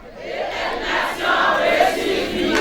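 A crowd at the Orange Bank and RAFA loan project launch loudly chants the name RAFA, a swelling roar of many voices with rising pitched shouts that grows louder through the moment.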